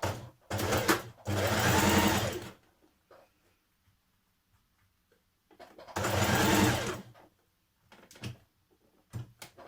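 A sewing machine stitches the shoulder seams of a New Look 6871 blouse in two loud bursts of rapid mechanical whirring, each about two seconds long, separated by quiet pauses with faint handling clicks.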